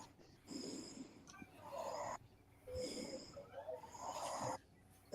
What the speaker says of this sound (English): someone's snoring